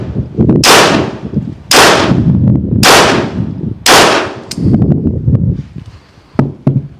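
A BinTac T50 semi-auto .50 cal PCP airgun fires four loud, sharp shots about a second apart, each cracking close by and then decaying into a ringing tail, followed by a few small mechanical clicks.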